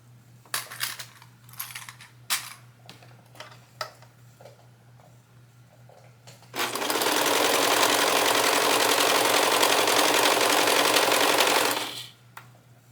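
A serger-style sewing machine stitching and trimming fabric for biking shorts, first a few scattered clicks and handling noises, then a loud steady whirring run of about five seconds before stopping.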